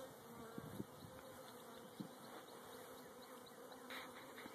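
Honey bees buzzing thickly in an open hive during a warm-day inspection, a dense steady drone with a few faint nearby knocks, quiet and continuous.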